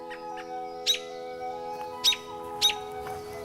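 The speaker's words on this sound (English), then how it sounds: "Waking up to the sound of birdsong in the spring is one of the many pleasures Mother Nature gives us this time of year" Birds singing in spring woodland: a few short, bright chirps repeat at irregular intervals over a quiet, steady background hum.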